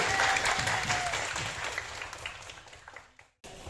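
A classroom of students claps for a classmate's correct answer during an Islamic religious education lesson, the applause fading steadily from loud to quiet before a brief silence, with faint voices mixed in.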